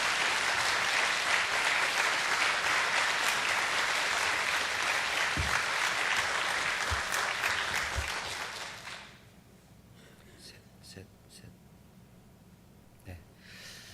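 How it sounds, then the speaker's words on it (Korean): Loud sustained applause from a church congregation welcoming a pastor fills most of the clip, then fades out abruptly, leaving a quiet room with faint stray sounds. "박수 하겠습니다"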